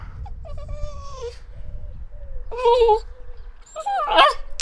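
A dog whimpers and whines near a microphone muff, making high, wavering, drawn-out cries in several bursts that grow louder and more urgent, close to the microphone.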